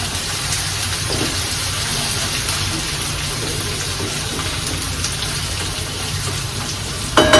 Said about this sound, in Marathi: आणि कांद्याला छानसा असं परतून घ्यायचं तेलात